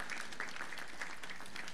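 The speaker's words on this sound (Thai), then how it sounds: "ปรบมือให้เจ้าบ่าวเจ้าสาวของเราด้วยนะคะ" Guests at a Thai wedding clap for the bride and groom in a short, fairly faint burst of scattered applause.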